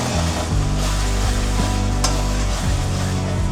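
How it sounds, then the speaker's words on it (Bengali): Spices and green chilli sizzle as fish curry masala with rohu and bean seeds is stirred and sautéed, a loud, continuous frying hiss with scraping of the spatula throughout. "সব কিছু আবারও কষিয়ে নেব খুব ভালোভাবে।"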